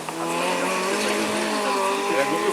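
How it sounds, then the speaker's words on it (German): A rally car at the ADAC Rallye Deutschland stage drives past, its engine note rising and falling in a steady nasal whine with some tyre noise, fairly close and loud without speech. "Schönes Rallye-Auto."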